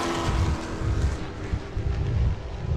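Race trucks roar around a racetrack during the World Series, a close, loud and continuous engine drone with fluttering surges as they pass.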